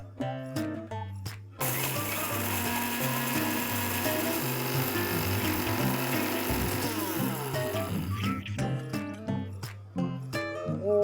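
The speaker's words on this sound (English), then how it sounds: "Now I'm just going to grind them up." Electric spice grinder whirring roasted whole spices into powder, short buzzing pulses, then a long loud continuous grind, then pulses again, close and unaccompanied by speech.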